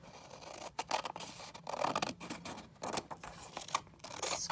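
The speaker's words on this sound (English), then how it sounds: "You'll want some scissors if you're going to be cutting the paper and decorating." Scissors snip through paper for a craft project, a quick, irregular run of crisp close cuts and rustles, fairly quiet and without talk.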